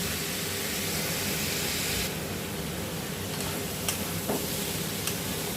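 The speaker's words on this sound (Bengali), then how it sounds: "শুকনো শুকনো হবে, আমি ভাজা ভাজা করে নেবো।" Snake gourd frying in a pan while being stirred, a steady close sizzle with soft scraping strokes and a few brief clicks near the end, no talk.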